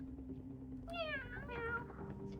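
A voice imitating a kitten, two short rising-and-falling meows over a faint low hum, fairly quiet and close.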